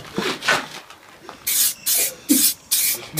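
Aerosol spray paint hisses in short bursts onto car wheels inside a garage, four or five close, loud sprays with pauses, after some earlier quieter rustling, and no talking.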